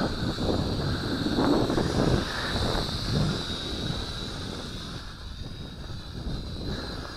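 Syma X5C quadcopter drone flying outdoors in a breeze, a steady high-pitched motor whine running throughout beneath rumbling gusts of wind noise on the microphone.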